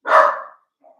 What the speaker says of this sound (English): That's my dog because there's probably a squirrel or a raccoon or something.